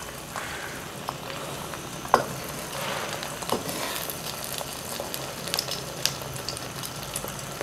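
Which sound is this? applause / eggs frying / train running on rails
eggs frying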